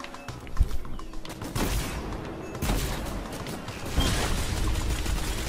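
Automatic rifle fire in Destiny 2 sounds as dense, continuous battle noise, with repeated shots and occasional heavier thumps layered throughout. There is no clear talking over it.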